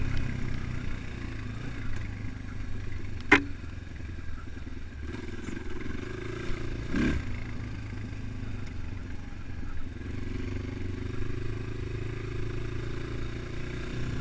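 Engine of a Progasi Gaudi 300 motorcycle heard while riding, a low, steady hum with rushing wind. A couple of brief clanks cut through, and no one speaks.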